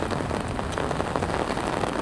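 Heavy rain pours steadily during a thunderstorm on a warm spring day, a dense, continuous hiss of drops drumming on surfaces close by, with no thunder standing out.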